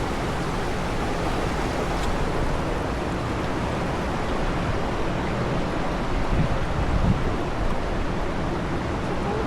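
Water rushing steadily through a mill stream in Winchester, a dense, even broadband wash with no breaks, heard alone and fairly close.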